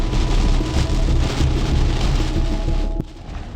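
Heavy rainstorm on a road trip drive near Ignace, Ontario, a loud dense hiss of rain drumming steadily on the vehicle with a low rumble beneath, easing slightly near the end, no voices.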